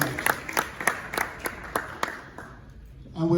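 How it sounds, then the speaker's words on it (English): Scattered applause from an audience welcoming the Czech ambassador at a Czech-Ghana business event, a few hands clapping in a loose, thinning rhythm that fades out near the end. "Please, a round of applause for her."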